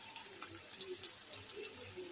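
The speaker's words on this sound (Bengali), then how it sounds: "মুরগি কাটার মধ্যে একটু পানি দিয়ে ফেলছি।" Water poured from a tap or vessel onto cut chicken pieces in a pot, making a faint continuous trickle and splash with no talk.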